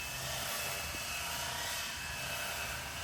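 GPS radio-controlled helicopter hovering in a backyard at full right rudder, a constant high-pitched motor whine and rotor buzz holding steady throughout.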